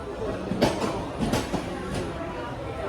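Inside a crowded general-class coach of a moving passenger train in India, a continuous rumble and rattle of the carriage runs throughout, with a few sharper clanks, and voices talk over it.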